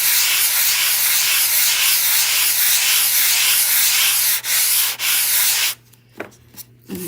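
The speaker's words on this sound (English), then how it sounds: "I'll take my sanding and I'll go in the middle a little bit." Hand sanding works across a custom wooden piece in steady, even rasping strokes for most of the time, loud and close, then stops into a few quieter scrapes and brief handling noises.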